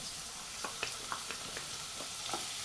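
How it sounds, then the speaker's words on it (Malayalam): Tomato being stirred into a prawn roast masala frying in a pan, a steady faint sizzle with soft periodic stirring taps. "ഒരു തക്കാളി ചേർത്ത് ഇളക്കുന്നുണ്ട്"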